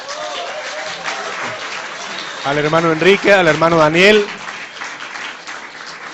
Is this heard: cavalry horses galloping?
no